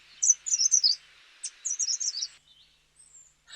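A grey-sided bush warbler in bushland at Senchal in the Himalayas, two close bursts of bright rapid chirps over a faint hiss, then a few softer brief notes.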